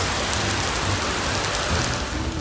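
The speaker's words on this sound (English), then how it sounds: "Iquitos is known for being a region with heavy rains, and I was able to experience this firsthand." Heavy Amazon jungle rain near Iquitos, Peru pours down in a dense, loud, continuous hiss of drops on foliage and surfaces, with no voices.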